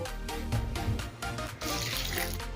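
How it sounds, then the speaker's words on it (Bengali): Flattened rice (chira) being washed in a bowl of water, with close, continuous splashing and swishing of water and a brief gush near the end. "এখন চিড়েটা কয়েকবার জল পাল্টে ভালোভাবে ধুয়ে নেব"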